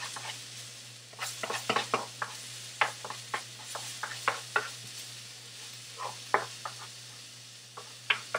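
A quick stir in a cooking pot with oil: a burst of close, irregular clacks and scrapes of the utensil against the pot over a faint sizzle, then a few sparser knocks.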